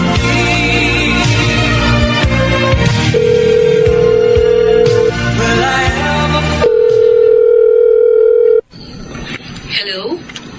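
A call rings through on a telephone over a TV drama's background music. Steady ringback tones sound twice, then the line clicks and cuts off, and a voice follows.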